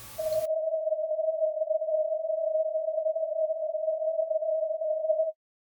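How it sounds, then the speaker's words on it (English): Narrowly filtered white noise in FL Studio makes a steady, pure whistling tone that holds for about five seconds after a short burst of broadband hiss, then stops abruptly. "When we play the sound now, you can actually hear something that represents a tone."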